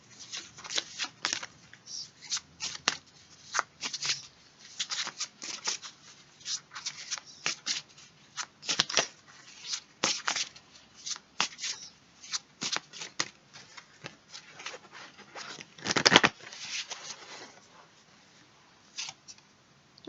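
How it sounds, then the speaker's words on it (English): A tarot deck being shuffled and cards pulled, giving repeated soft riffles, flicks and slaps of card stock at close range, irregular in rhythm, with one louder burst near the end. "Now let's pull some more cards, a couple more first."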